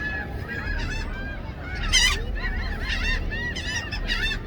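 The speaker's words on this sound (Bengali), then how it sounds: "এই যে শব্দ হচ্ছে সিগাল পাখির ডাক," Gulls call from the water near a lighthouse on City Island, loud honking cries repeating in overlapping bursts, some close and some farther off.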